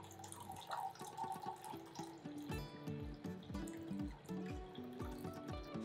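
Water is poured into hot brine for a ginger blueberry ferment, making a continuous close pour with gurgling tones that shift in pitch as the vessel fills. No one speaks.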